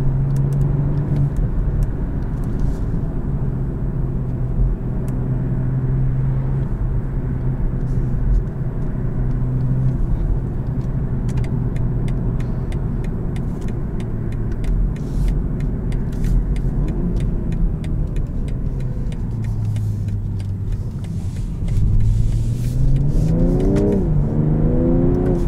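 A car in Sport Plus manual mode rumbles loudly from inside the cabin, the engine droning steadily, then its pitch climbs through rising revs near the end.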